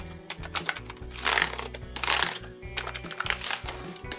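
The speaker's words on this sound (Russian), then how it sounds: "Клавиатура очень удобная. Мягкие клавиши." Fingers type on a Logitech MK235 wireless keyboard with soft keys, a close, quiet run of muffled key clicks in irregular bursts with a few louder clattering stretches, no voices.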